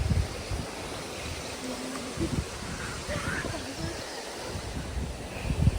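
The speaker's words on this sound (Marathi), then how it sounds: "या बाजूने असं थोडंसं पाणी वाहतं आहे आणि ते खालच्या बाजूला जात आहे" Water trickles and flows down beside the Napne waterfall near a glass bridge, a steady rushing wash mixed with wind noise on the microphone, moderately loud and continuous, with faint voices underneath.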